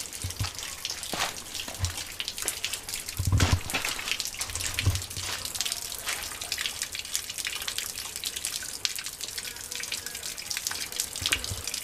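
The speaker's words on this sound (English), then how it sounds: "And the little baby waterfall." A small forest waterfall on a trail in Pennyrile Forest, a continuous splashing, trickling flow with scattered drips and a few louder sloshes, heard close and alone.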